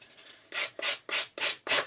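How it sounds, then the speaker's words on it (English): Five quick, even rubbing strokes of a sanding tool scrape along the edge of a paper card, close and crisp, in a steady rhythm. "my sanding tool just to go around the edge of this and just knock off any bits"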